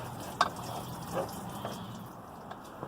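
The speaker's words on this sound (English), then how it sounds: "there's some water in there that we're losing" Coolant water draining from a Jeep Next Gen V8 engine during water pump removal, scattered drips and small splashes over a quiet background, close and faint, with no talking.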